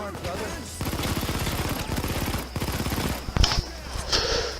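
Rapid automatic gunfire in the video game Payday 2, long bursts of shots with brief gaps and a few sharper impacts near the end, loud and close.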